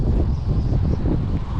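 Strong wind gusting up to 40 on open water during bass fishing, a loud continuous low rumble buffeting the microphone with no speech.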